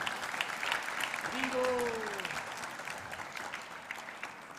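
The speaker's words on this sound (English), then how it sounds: "So I'd like to give a big round of applause for Mother Draupadi." Quiet, steady applause from an audience at a Sunday religious program thanking the cook, continuing without pause, with a voice briefly heard over it partway through.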